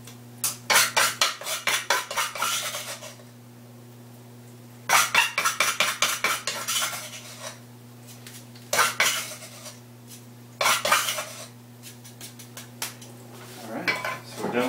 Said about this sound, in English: I'll just scoop it in this time into the strainer.